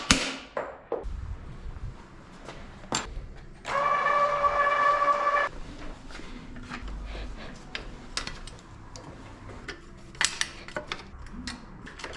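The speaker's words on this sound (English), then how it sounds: "I'm just gonna hammer it out" A hammer knocks out a bicycle's pressed-in bottom bracket during a restoration teardown, with scattered sharp metallic strikes at irregular intervals and a steady tonal whine partway through.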